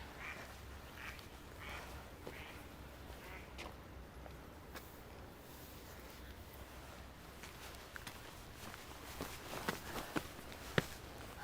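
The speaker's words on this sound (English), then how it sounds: "That duck sounded like it was laughing at me." A duck in a Manhattan park quacks repeatedly in short bursts, fairly close, over steady outdoor ambience and scattered footsteps.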